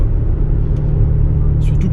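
A 2020 Porsche Macan Turbo twin-turbo on its stock exhaust with particulate filter and catalysts rumbles steadily at close range, a low throaty drone with faint higher ticks near the end.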